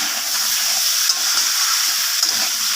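Fried potatoes being stirred into vegetarian aloo dum in a pan, a steady close sizzle and hiss of frying with faint stirring scrapes throughout, no voices.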